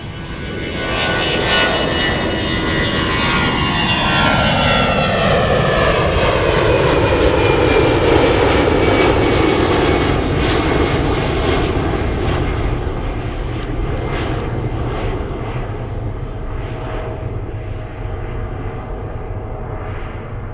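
A Lufthansa CityLine regional jet taking off at Munich airport, its engine roar swelling and sweeping in pitch as it passes, loud and sustained throughout before slowly fading, with no talk.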